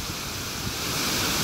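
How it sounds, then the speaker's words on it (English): A steady rushing roar comes from a waterfall in Idaho, close and continuous like broadband hiss, with no talk over it. "is just a beautiful, beautiful waterfall"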